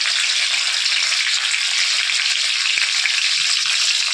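Sugar, two bay leaves and four cardamom pods fry in hot oil in a kadai for mutton kosha, giving a steady, close, bright sizzling hiss that runs unbroken throughout with no talk.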